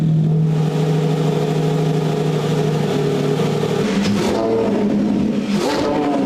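Lamborghini naturally aspirated 6.5-liter V12 engine revving to 9,500 RPM, a loud, sustained engine drone with rising revs and two sharp throttle blips near the end.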